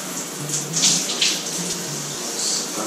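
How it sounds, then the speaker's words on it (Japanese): Shower water runs steadily in a home bathroom, a continuous hissing spray with fluctuating splashes and no talk. "1日目は、シャワーだけに行きます。"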